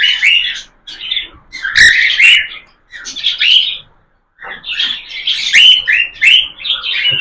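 Pet cockatiels chirp and squawk close by in a lively, uneven run of bright calls with brief pauses between bursts.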